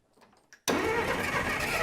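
An old engine that had sat unused for 30 years catches after a choked start, with a few faint knocks and a soft cough first, then a sudden loud, steady running roar that carries on to the end.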